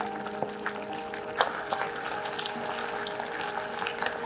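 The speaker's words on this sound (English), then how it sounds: "Add the salmon skin side down to the skillet and allow it to cook for 2 minutes while spooning the sauce over the salmon." Salmon fillet laid skin side down cooks in sweet chili sauce in a skillet, giving a steady close bubbling sizzle with small pops and spoon clinks, and no voices.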